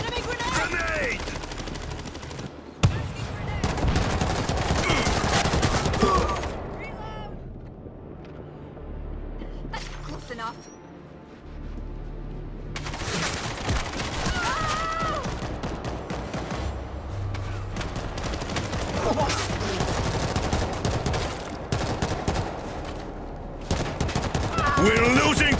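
Heavy weapon fire in the World War Z shooter amid a zombie-swarm battle, long stretches of loud sustained automatic gunfire broken by a brief lull, with combat voice callouts layered over the shooting.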